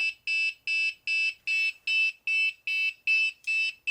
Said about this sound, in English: now it's like it's playing a Christmas tune, which is weird because it's just a buzzer in there